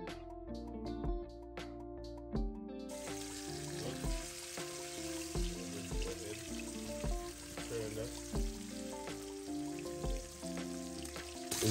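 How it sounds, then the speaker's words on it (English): Salmon pieces frying in a pan, a dense steady sizzle and crackle with popping spatter throughout, fairly quiet and close, with faint background music. "We're gonna fry these salmon so you can break them up to add to your fry rice"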